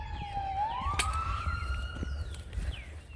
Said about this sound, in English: there's a siren behind us